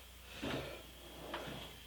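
A tool box drawer slides open and shut twice, each a short scraping rattle about a second apart, close by and fairly quiet.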